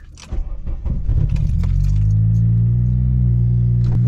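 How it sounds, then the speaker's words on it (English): Keys jangle close by, then a car that has sat unused for a week cranks and catches roughly before settling into a loud, low, steady idle rumble. "That was a bit of a dodgy start, but it's been a week since we started this car."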